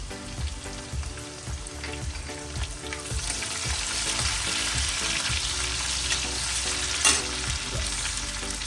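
Green chillies go into oil with partly fried onion, giving a continuous sizzle with rhythmic scraping thuds from stirring, loud and close without any talk.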